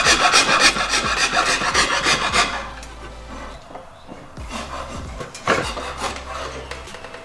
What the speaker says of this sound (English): if you feel like you can't get any closer with the draw knife, we'll move to the rasp